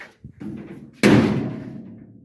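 A 1951 Chevy car door swings shut after its hinges were loosened and adjusted, landing as one solid, loud slam that rings out and decays, preceded by a soft latch click.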